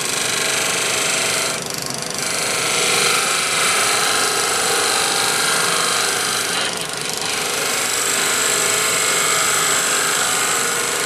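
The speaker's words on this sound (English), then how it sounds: "To do the shaping, I'm going to use my little fingernail grind" A fingernail-grind gouge shapes a piece of salvaged cocobolo wood, making a loud, continuous rough cutting hiss that swells slightly twice and runs steadily throughout, with no voices.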